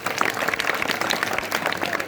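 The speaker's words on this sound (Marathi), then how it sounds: "आता खरी शिवजयंती झाली. टाळ्या वाजवा." Brief burst of audience clapping at a Shiv Jayanti celebration lecture in Wadgaon, a quick flurry of scattered hand claps from a crowd lasting about two seconds.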